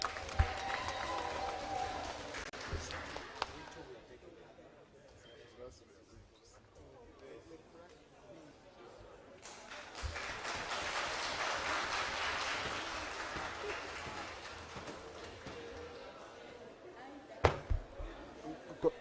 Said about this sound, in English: when did we start clapping in Parliament?